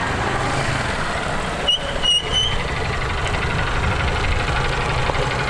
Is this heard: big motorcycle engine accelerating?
yes